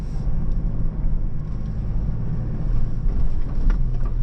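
A 2025 Toyota Prado (250) climbs an off-road sand slope with its wheels spinning. A loud, close, continuous engine and tyre rumble holds throughout the climb.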